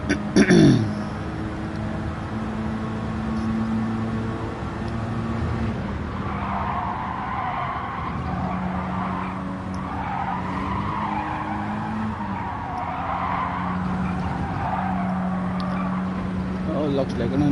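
A race car in Gran Turismo 7 driving a lap, its engine droning steadily and rising and falling as it shifts through the gears, with tires squealing at times and someone talking over it.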